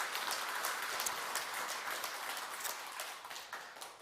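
Congregation at a Won Buddhist Sunday service in a temple hall applauding together, a sustained wash of many hands clapping at a moderate distance, gradually thinning toward the end.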